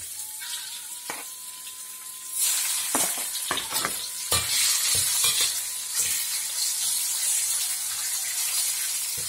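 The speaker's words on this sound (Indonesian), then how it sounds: "akan menggoreng dengan sedikit minyak aja" Dendeng beef frying in a small amount of oil, with bursts of close sizzling and crackling after a quiet start, plus occasional stirring clatter throughout.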